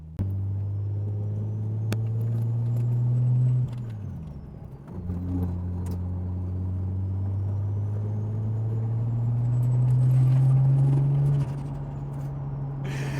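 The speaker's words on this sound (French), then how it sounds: "J'accélère pour rien du tout, tu vois, mais c'est fou" A Nissan GT-R on the road gives a steady low engine drone that swells as it accelerates, dips briefly and then builds again with road rumble, close and continuous inside the car.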